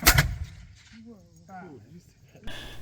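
A historic musket is fired at a living history demonstration at an old British frontier fort, one sharp loud report at the start fading out, followed by voices and shouted talk.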